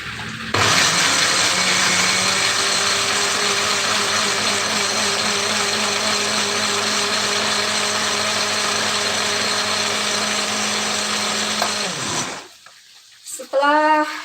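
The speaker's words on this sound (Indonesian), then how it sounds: "saya mau ngeblend dulu ini" Electric blender grinding cooking spices for a stir-fry, a loud steady whirring drone for about twelve seconds that cuts off abruptly, followed by brief rattling and handling sounds.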